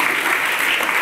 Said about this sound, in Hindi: एक बार ताली मारिए आप लोग बढ़िया से